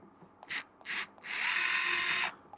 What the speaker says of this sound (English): I have to undo all these screws at the sides.